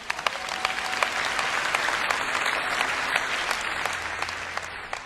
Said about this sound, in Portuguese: Vamos, aplaudir o Rei da Glória.